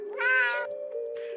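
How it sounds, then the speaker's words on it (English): A cat gives one clear, close meow with a rising then falling tone, followed by a short faint second call over a steady low hum. "Listen to the cat again."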